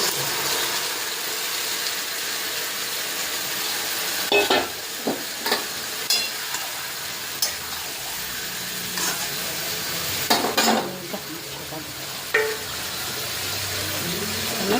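Mustard-oil-marinated spiced chicken being stirred and fried in a pan for a dry kasha dish: a steady sizzle with intermittent sharp spatula scrapes and knocks, close and fairly loud, with no talking.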